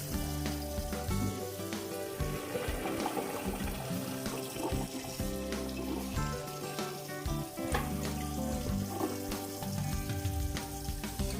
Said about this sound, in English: Drain the pasta. I like to have a little cold water.